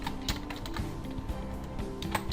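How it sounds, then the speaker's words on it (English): Fingers tap on a computer keyboard in a quiet room, producing a soft, irregular run of light key clicks at close range, faint and without speech. "Here I'm going to type my name."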